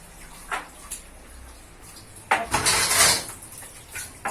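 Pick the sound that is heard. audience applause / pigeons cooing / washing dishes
washing dishes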